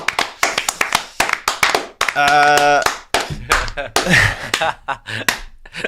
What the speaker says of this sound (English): Round of applause for us.